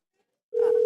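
A steady telephone call tone starts abruptly about halfway through and holds at an even pitch, loud and close, before a voicemail picks up.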